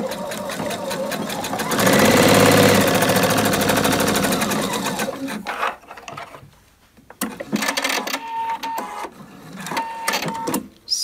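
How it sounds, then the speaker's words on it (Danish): A sewing machine stitches a three-centimetre hem on a long vest, running loud and fast in one continuous burst, then stopping for fabric handling and a few shorter, quieter stitching runs. "Og så syr jeg her 3 cm op."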